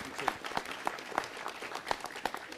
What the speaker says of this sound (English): Joe, give him a nice round of applause.